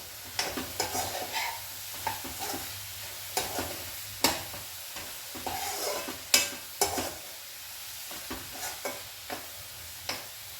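Ridge gourd curry with green chillies sizzles in oil in a pan while a spoon stirs it, giving repeated scraping clicks and soft bursts over a steady low fry.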